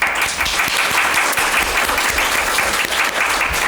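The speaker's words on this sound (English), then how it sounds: "An applause for them." Steady applause from an audience thanking three speakers at a stakeholder engagement session, dense even clapping that carries on without a break.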